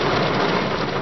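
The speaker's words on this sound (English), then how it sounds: "It's raining harder now." Heavy rain falls on a car in a dense, unbroken roar of drumming drops, loud and close throughout.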